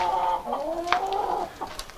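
Chickens cluck softly and close by, a couple of short murmuring calls against quiet background.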